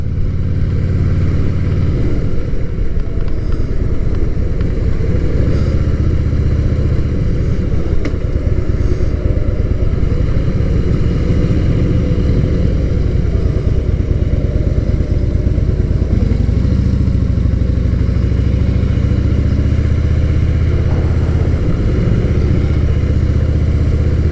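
A Harley-Davidson Softail motorcycle ridden on a summer day in Fresno, California: a loud, continuous, close engine rumble mixed with wind buffeting, rising and easing slightly as it cruises, with no talking.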